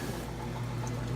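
A lakehouse washing machine draining water, a steady rushing pump hum with gurgling liquid running continuously and evenly for the whole stretch, no voices.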